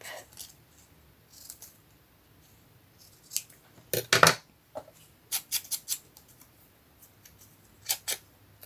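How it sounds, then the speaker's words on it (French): Scissors snipping small paper stamps for a skinny card, a few scattered crisp close cuts with quiet pauses between, a cluster of quick snips in the middle. "Et puis nos fameux petits timbres là, je vais juste les couper."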